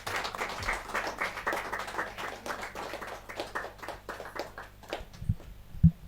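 Enthusiastic audience applause at a book launch during a Hindi poetry gathering (kavi sammelan), a steady wash of many hands clapping indoors that fades toward the end with a few scattered claps.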